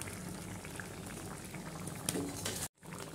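Goat lung gravy simmers steadily in a pot over a low flame, a dense continuous bubbling with small pops throughout and a brief break near the end, no voices.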